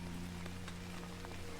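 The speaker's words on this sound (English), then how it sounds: "you're thoroughly enjoying the rain?" Steady rain patters down during a night walk with a dog, a constant soft hiss with scattered drops close by and no talking.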